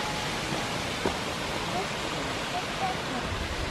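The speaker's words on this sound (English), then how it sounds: "Waterfall." A waterfall's steady broadband roar fills the scene, dense and unbroken, heard from fairly close, with faint brief voices over it.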